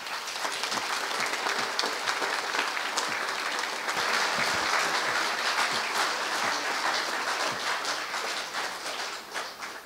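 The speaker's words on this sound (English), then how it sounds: "So I think that deserves some applause" An audience at a King's Award ceremony for a Sikh soldier organisation applauds, a dense, even wash of clapping that holds steady for about ten seconds at moderate volume before easing slightly at the end.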